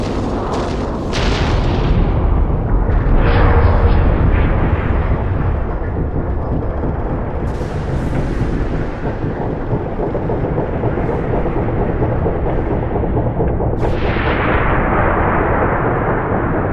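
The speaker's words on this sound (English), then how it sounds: "All ships, fire at will." Capital ships firing and explosions in the Halo 3 level The Storm, a loud sustained barrage of booming blasts and rumbling detonations, with several sharp bursts standing out.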